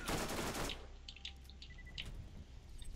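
A rapid, loud burst of automatic fire from the player's gun in the Borderlands video game, lasting under a second, followed by scattered metallic pings and clinks fading out.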